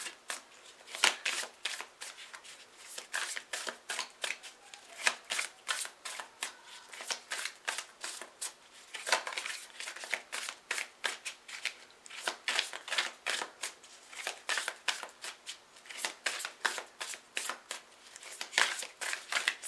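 Tarot cards are shuffled by hand in a steady run of rapid riffles and slaps, close and crisp, continuing with a brisk uneven rhythm and no talking.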